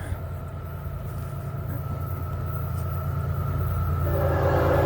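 Florida East Coast Railway train FEC 105 rolling past at track speed, a steady loud rumble with rhythmic wheel clatter that grows nearer and louder toward the end.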